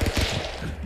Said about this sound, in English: The gunfire was coming like a drone